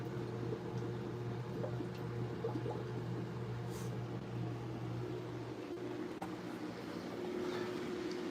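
Water gurgles and flows as it is pumped through a fish tank filter, a continuous, fairly quiet wash over a steady low hum from nearby.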